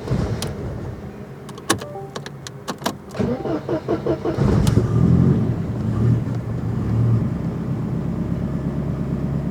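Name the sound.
Mercedes 190E with swapped M111 engine running, revving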